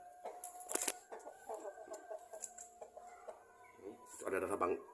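Tame free-range village chickens, with a rooster of part Bangkok fighting-cock blood, cluck and squawk nearby in short irregular bursts, a voice faintly mixed in at times.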